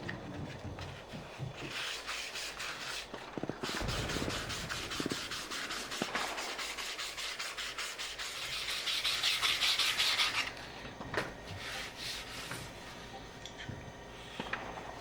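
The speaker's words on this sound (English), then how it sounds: "I sand it down with a file, mold it, carve it, make it smooth" A file rasps over Bondo filler on a Lee Enfield prop rifle, giving quiet, steady scraping strokes that continue throughout with brief pauses between passes.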